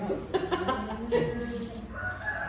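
Free-range village chickens clucking and a rooster crowing nearby, short harmonic calls in quick succession followed by a longer drawn-out crow, fairly close and moderately loud.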